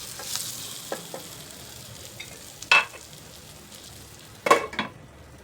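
Eggplant sautés in a generous amount of oil in a pan, a soft steady sizzle close up, broken by a few sharp clinks and scrapes of a spatula stirring against the metal.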